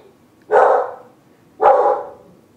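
Two loud, close dog barks come about a second apart in an otherwise quiet indoor setting.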